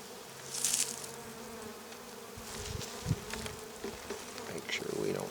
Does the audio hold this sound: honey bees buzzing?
yes